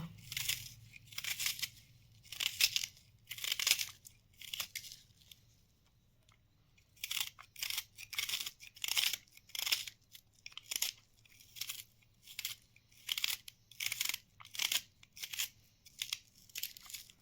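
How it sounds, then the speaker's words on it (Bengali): A knife chops onion on a cutting board in rapid bursts of crisp crunching strokes, pausing briefly midway before resuming, close and fairly quiet with no talk. "আমি এখন পেঁয়াজটা কুচি করে নেব।"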